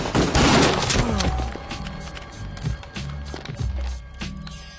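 Rapid gunfire from the video game Kingpin, a loud burst of shots at the start followed by scattered single booms and thuds, with game sounds between them.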